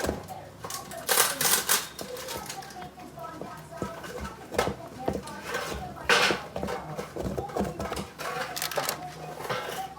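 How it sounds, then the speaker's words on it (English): A spatula scrapes and knocks in a pan as it breaks down a Jamaican Christmas rum fruit cake mixture, giving close, irregular clattering strokes with scraping between them, some louder bursts, and no voice over them. "I'm going to use a spatula to break it down so it's easier when I'm mixing it."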